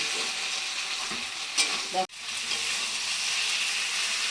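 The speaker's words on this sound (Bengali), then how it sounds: "এবার মশলাটা দিয়ে ভাজবো আর একটু" Spices fry in oil for a taro and chickpea curry, a loud steady sizzle with stirring scrapes and a brief dip midway before the hiss swells again close up.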